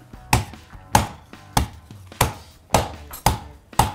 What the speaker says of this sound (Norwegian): Så skal vi banke den her flat